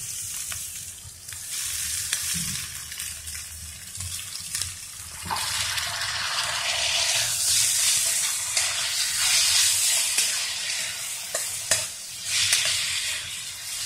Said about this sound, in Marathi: आता आपण हे कुरडया भिजवून घेतलेल्या कुरडया त्यामध्ये घालणार आहोत